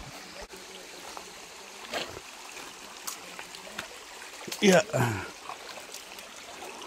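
Steady rush of flowing waterfall stream water at Arapay Falls runs underneath, with a brief louder splash or gust near the end and a short spoken word.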